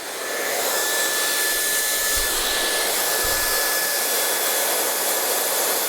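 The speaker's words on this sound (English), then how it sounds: "because I'm doing a smooth blow dry, I'm going to use my paddle brush on this one" A hair dryer blows steadily and loudly up close while a paddle brush works through hair during a smooth blow dry, a constant airy whine with a faint tonal hum and no talk.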